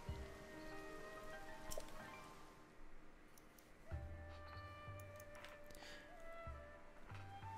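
Steady rain hisses across the landscape in Zelda: Tears of the Kingdom, a constant wash of falling drops beneath tonal game music, with occasional soft ticks and low thumps and no talking.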